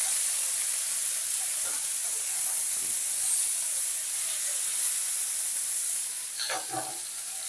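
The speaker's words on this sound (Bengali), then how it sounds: "এবার সমস্ত ভেন্ডিগুলোকে একটু ফ্রাই করে নেব।" Okra sizzles in a hot pan with salt and turmeric, a soft, even hiss of frying throughout, with a few brief clinks or stirring knocks near the end.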